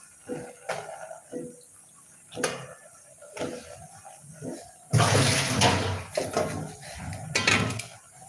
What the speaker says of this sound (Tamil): இப்ப நம்ம கத்திரிக்காயை கழுவி சேர்த்துக்கலாம்